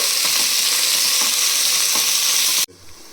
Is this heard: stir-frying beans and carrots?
yes